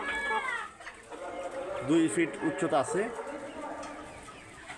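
Hill chickens cluck and call in short bursts close by, a few brief vocalizations mixed with someone talking over them.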